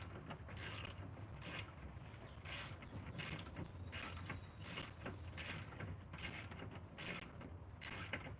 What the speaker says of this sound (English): Like the ratchet got caught between two gears.